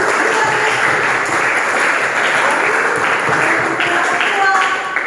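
Classroom applause for group 1 after their presentation on Pancasila democracy, a thick continuous wash of clapping from many students at fairly high level, with faint voices mixed underneath.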